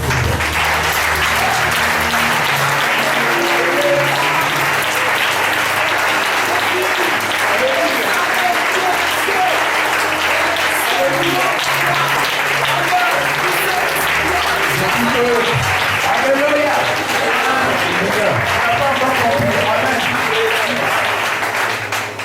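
Sustained loud applause from a large congregation at a church service, continuous for the whole stretch, with faint voices and cheering mixed in.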